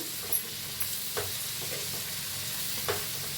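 Finely chopped fenugreek leaves being stirred with salt in a hot pan for a besan methi dish: soft continuous frying hiss with a few brief scraping knocks of the spoon, close and untalked over.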